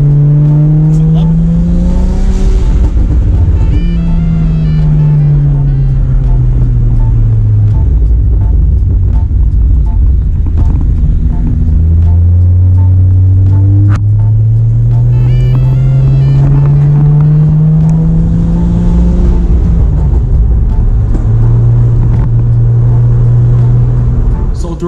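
Modified car driving on the road, its engine repeatedly rising and falling through gears as it accelerates, loud and close, with someone talking over the engine noise throughout.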